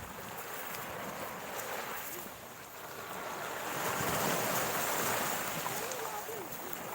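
Sea surf washing against a rocky shore at Laem Kham viewpoint in Sattahip, with strong gusting wind buffeting the microphone; a steady broad roar that swells louder midway, with no voices.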